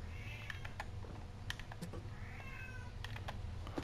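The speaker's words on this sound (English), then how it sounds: "I'm actually gonna lock that cat up" A cat meows a few times indoors, moderately close, over steady background hum and the clatter of computer keyboard typing during a Hello Neighbor game session.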